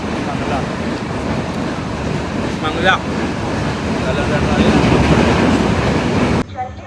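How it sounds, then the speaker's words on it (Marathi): A Diwa–Sawantwadi passenger train rolls along with a loud continuous rumble and rattling clatter from inside the carriage, a brief squeal partway through, with people talking over it before it cuts off abruptly. "गाडी आता मानगावरून सुटलेली आहे"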